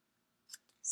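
Scissors snip a treat basket handle during a craft project, two quick faint clicks followed by a louder sharp cut, close and alone.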